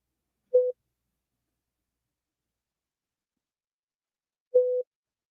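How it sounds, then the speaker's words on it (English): Two short electronic beeps of a busy signal tone sound about four seconds apart, clean and isolated against silence. "That's that beeping we kept hearing"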